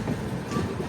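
Passenger train with a tricolour-painted engine pulling into Tirupati railway station on the Tirupati–Lingampally route, a brief steady rumble of rolling wheels and carriages, fairly quiet and without talk.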